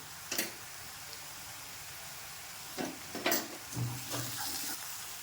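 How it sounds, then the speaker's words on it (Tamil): Onions sizzle steadily in a hot pan with salt and turmeric for a chicken gravy, while a utensil scrapes and stirs a few times, close by and without voices. "நல்லா பொன்னிறமாக நல்லா வதக்கிக்கோங்க."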